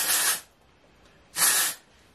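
Two short bursts of hairspray from an aerosol can onto freshly curled short hair, each a sharp hiss of about a third of a second separated by a brief quiet gap.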